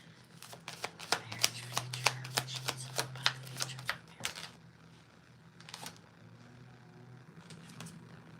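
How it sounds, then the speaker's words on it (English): Tarot cards being shuffled at a table during a live reading, a quick run of crisp riffling snaps and flicks, close but fairly quiet, followed by a few softer isolated shuffles and a low hum. "Let me shuffle a couple more times."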